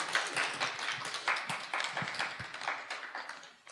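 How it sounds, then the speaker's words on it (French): Audience clapping after a conversation event, a small group's scattered, uneven claps at moderate distance with individual sharp hand strikes standing out, fairly quiet overall. "Ah oui, applaudissons-les."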